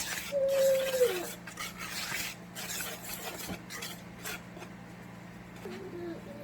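Dry cookie ingredients for chocolate chip walnut cookies stirred in a bowl until blended, soft repeated scraping strokes close by over a low hum, with a brief squeak near the start and the stirring tapering off.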